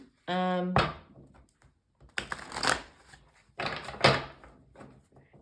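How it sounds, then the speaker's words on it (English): Extra-large tarot cards are shuffled in quick riffling bursts with soft slaps and thumps, while a person talks between and over them. "extra large tarot cards, which are very hard to shuffle"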